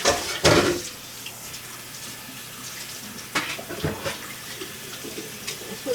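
Tap water runs into a kitchen sink while hands are rinsed, a steady splashing wash with a few louder bursts near the start and middle, close by, during pot roast preparation.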